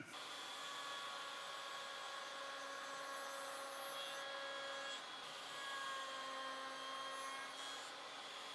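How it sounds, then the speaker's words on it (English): A router table with a 45-degree chamfer bit cuts chamfers on the tops of cherry bed posts, backed by scrap wood: a steady, continuous high-pitched whine with faint tonal bands, holding fairly even throughout with no talking. "At the router table, I'm going to use a 45-degree chamfer bit to put a chamfer on the tops of all the posts on all 4 sides."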